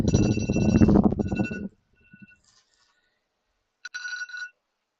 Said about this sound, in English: I have my phone alarm going off, so I'm going to stop that